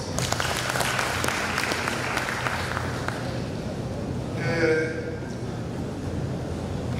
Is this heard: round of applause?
yes